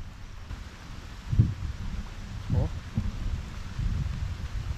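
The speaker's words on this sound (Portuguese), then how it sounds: "Tá dando altos trovão ali, literalmente atrás de mim." Low thunder rolls behind a forest waterfall during a storm, sounding as deep rumbles that swell twice over a constant roar of rushing water and rain.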